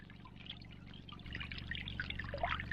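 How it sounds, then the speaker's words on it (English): Water pours and splashes quietly, a faint gurgling trickle that grows fuller and busier partway through. "Everybody loves a good waterfall, right?"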